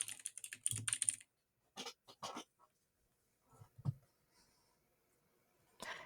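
Typing on a computer keyboard to enter a prompt, a quick burst of close key clicks followed by scattered shorter bursts and pauses, crisp and fairly quiet with no talking.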